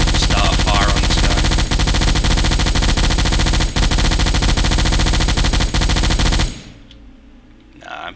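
Submarine deck gun in Silent Hunter IV pounding away at a ship, loud rapid continuous firing that stops abruptly, leaving a faint lingering rumble.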